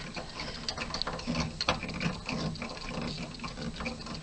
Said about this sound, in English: this little screwdriver seems to work better with this